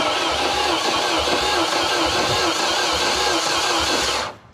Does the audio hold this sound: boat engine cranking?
yes